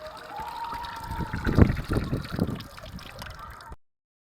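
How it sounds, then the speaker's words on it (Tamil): Water being poured onto potted plants in a terrace garden, a steady trickle and splash that swells and fades over a few seconds, close by with no talking. "நான் தண்ணி ஊற்றிக்கிறேன்."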